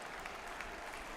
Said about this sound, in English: You can hear the crowd, the murmur of the crowd when it gets up there to 101.